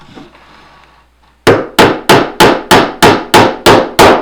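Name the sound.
hammering small nails into a dollhouse porch floor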